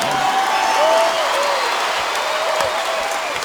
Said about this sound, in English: A round of applause for Deji. He gave all he had. Let's give him a hand.